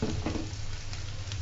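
Shrimp heads sizzle steadily in a hot pan, a continuous close frying hiss with no talking.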